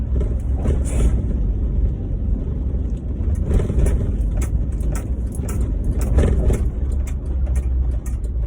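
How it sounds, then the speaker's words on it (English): A car passes close by on a road, a steady broadband rumble of engine and tyre noise heard from inside another vehicle, with no talking. "This car is getting a little bit too close, man."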